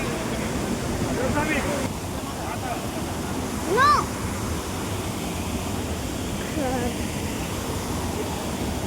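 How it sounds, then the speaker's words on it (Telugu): Athirappilly waterfalls near Kochi in Kerala roar as a steady, dense rush of falling water that fills the whole scene, with a short chirp and a voice faintly in the background. "చూడండి ఒక్కసారి మీరే చూడండి వాటర్ ఫాల్స్ ఎలా ఉన్నాయో ఇక్కడ"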